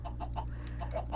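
Chicken clucking in a video game: a series of short, repeated cluck bursts in an irregular rhythm, moderately close, over a steady low electronic hum, with no talking.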